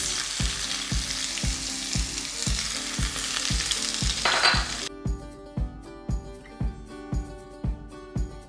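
Garlic and onions frying in a pan for a marrow and wadi casserole: a loud continuous sizzle at first, with a regular beat of clinks from a spoon tapping the pan that continues alone after the sizzle cuts out.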